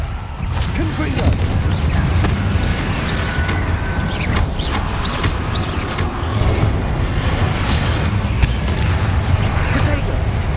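Fire spell blasts burst repeatedly in Hogwarts Legacy combat, loud and dense, with booms and crashing debris over constant game noise, while a voice calls out spell names.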